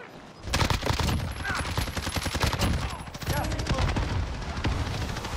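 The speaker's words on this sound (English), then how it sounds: "I'm getting shot back" Rapid automatic gunfire rattles in bursts during a zombie shooter game, loud and dense, with brief pauses between volleys.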